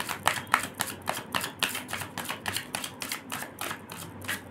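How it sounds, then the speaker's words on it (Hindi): Tarot cards being shuffled by hand, a quick run of about a dozen crisp riffling snaps and taps at a steady rhythm, close and fairly quiet, with no talking. "ये हम लास्ट शफल करेंगे"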